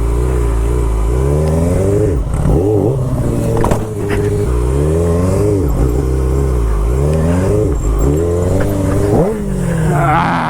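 A motorcycle engine revving repeatedly during clutch bump practice in a parking lot, loud and close, with rising and falling revs in several bursts over a steady idle.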